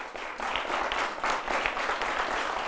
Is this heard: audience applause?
yes